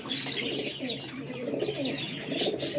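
A restless female flying pigeon being held in the hand coos and chirps repeatedly in close, fairly loud bursts, with no speech.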